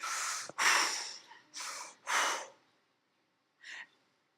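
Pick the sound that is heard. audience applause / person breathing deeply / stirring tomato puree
person breathing deeply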